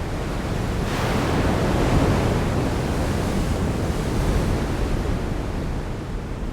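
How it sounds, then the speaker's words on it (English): Ocean surf and tidal water rolling in a steady, broad roar, loud and continuous with a slight swell near the middle, with no voices. "The first tides were mountains of water,"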